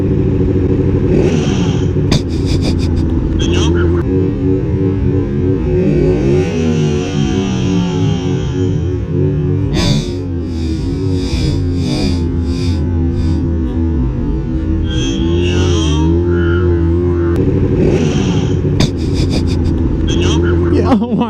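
A motorcycle engine revs loudly and repeatedly close by, rising and falling in bursts over a steady idle, while people talk and shout over it.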